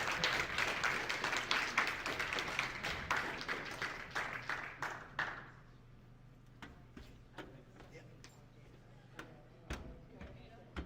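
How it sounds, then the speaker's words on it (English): Audience applause for performer Aiden Kunizi at a live-streamed show in Inuvik, a dense burst of clapping that thins out after about five seconds into scattered individual claps. "Please give him a round of applause"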